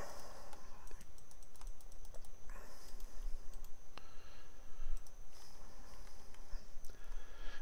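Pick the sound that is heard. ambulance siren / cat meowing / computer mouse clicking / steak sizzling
computer mouse clicking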